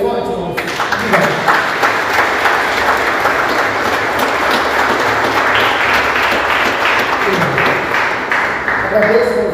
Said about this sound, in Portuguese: Você pode aplaudir o Senhor bem forte, irmãos?